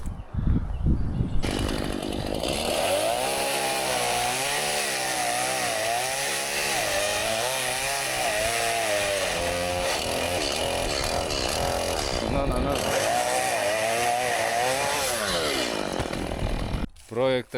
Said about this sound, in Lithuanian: pjūklai į rankas ir dujai.